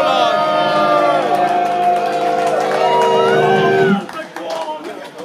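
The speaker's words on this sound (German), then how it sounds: "bitte noch einen Applaus für den Ronald" Audience at a live metal concert in Boswil cheering, whooping and clapping for about four seconds before the crowd noise drops off and a voice speaks over it.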